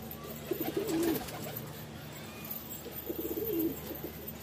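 A pigeon coos softly twice, each a short warbling phrase a couple of seconds apart, over faint background noise.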